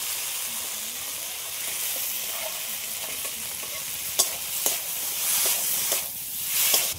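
Fried potatoes go into an onion masala for a fish and potato curry and get stirred, with a continuous loud sizzle and hiss and sharp spatula scrapes and clatters toward the end.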